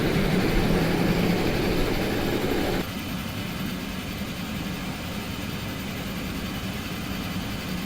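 A Twin Otter turboprop engine spooling up during start-up in Microsoft Flight Simulator 2020 gives a loud, steady broadband roar and whine that drops slightly in level partway through, then holds a constant drone.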